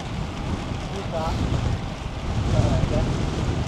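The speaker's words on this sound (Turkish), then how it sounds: "Rüzgar var" Wind buffeting the microphone during a climbing stretch of a cycling granfondo course near Çeşme, a continuous rumbling roar, close and loud, with faint voices briefly audible beneath.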